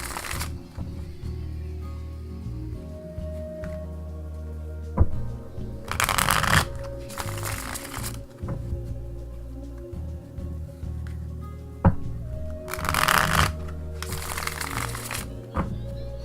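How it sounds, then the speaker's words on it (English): Tarot cards shuffled by hand in repeated riffling bursts, close and fairly quiet, with two louder riffle passes standing out against a low steady background hum; no talking. "I'm a shuffler, guys, but that should do it"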